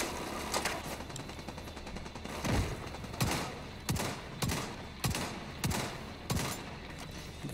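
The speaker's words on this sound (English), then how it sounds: "This guy was using the machine gun." Machine-gun fire in The Division 2 during a Black Tusk invasion at Tidal Basin, coming in repeated sharp bursts at a steady rhythm over continuous background game noise, loud and close.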